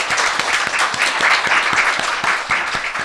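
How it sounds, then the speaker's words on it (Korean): An audience at a televised talk show claps to welcome two guests onto the stage. The applause is dense and sustained, and the whole crowd claps at a steady, even level with no voices over it. "박수로 모시겠습니다."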